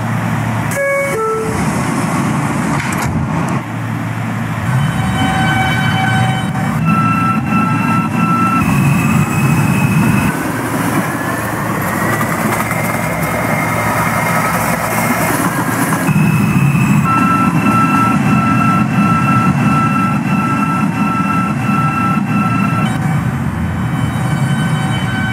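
An R160A subway train on the N line to Astoria-Ditmars, from a Roblox game, runs with a steady loud rumble and motor whine, a rising electric tone and several chime-like beeps.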